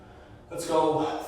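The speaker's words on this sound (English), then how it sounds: "big exhale through the mouth" A single big, breathy exhale through the mouth during a spine exercise, starting after a brief quiet moment, close and fairly loud, then trailing off.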